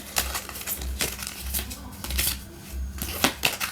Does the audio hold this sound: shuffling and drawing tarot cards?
yes